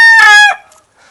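A purebred Cream Legbar cockerel gives one loud, close crow, a bright sustained call that drops off sharply after about half a second, followed by a faint trailing sound.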